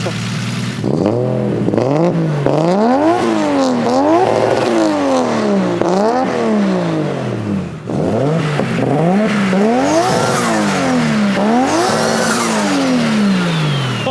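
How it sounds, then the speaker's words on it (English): A Nissan RB-engined car revs hard again and again, each loud rise and fall of engine pitch following the last in a steady rhythm, close and prominent. "You can't beat the sound of an RB in my opinion."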